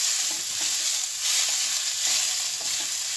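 Garlic frying in hot oil in a pan, giving a continuous bright sizzle with faint stirring, close and steady with no voices.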